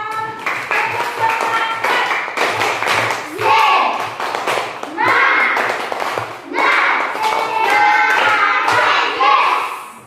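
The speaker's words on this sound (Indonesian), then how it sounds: "kita tepuk tangan bersama" A primary school class in Ambon, Indonesia claps their hands together in rhythmic patterns, with children's voices chanting along between bursts of claps.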